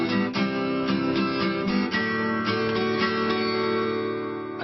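Acoustic guitar strummed in 3/4 time, a steady pattern of one downstroke followed by paired eighth-note strokes on beats two and three, played close and loud and repeating bar after bar with no voice over it.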